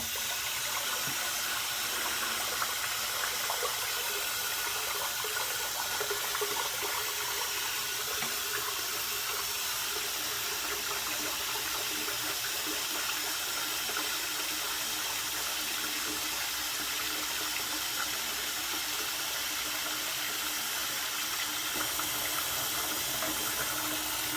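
Steady water runs continuously into a bathroom sink whose drain stop isn't holding the water, a constant close hiss and splash with no pauses throughout.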